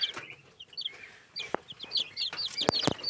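Several chickens and a rooster cluck and peep nearby in overlapping bursts, with sharp short calls and chirps scattered throughout.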